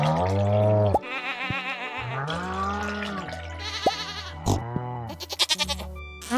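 Goats bleating in the farming game Stardew Valley, several loud wavering bleats in close succession, some gargling and sliding in pitch, alone without talk.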